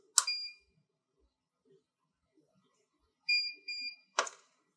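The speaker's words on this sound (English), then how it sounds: "on this time we'll hear 2 beeps, which indicates a 5-second hold" A compression therapy boot controller gives an electronic beep, then after a pause two short beeps follow closely, signaling a 5-second hold, with a third tone at the end, clear and close in a quiet room.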